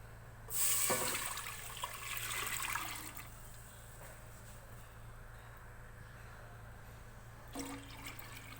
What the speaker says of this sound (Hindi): सबसे पहले हम पैन में पानी डालेंगे।